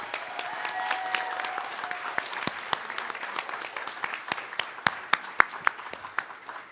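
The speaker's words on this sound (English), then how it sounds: "If you can please give them a round of applause." An audience at a California governor's candidate forum claps for the candidates, a steady patter of applause with sharper individual claps standing out toward the end.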